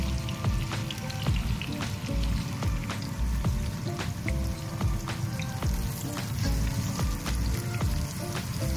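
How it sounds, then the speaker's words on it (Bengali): About a kilogram of onions frying slowly in oil produce a continuous crackling sizzle with dense popping spatters, steady and close throughout, with no voices. "1 কেজির মতো পেঁয়াজ দিয়েছি, এগুলোকে ধীরে ধীরে ভেজে নিব।"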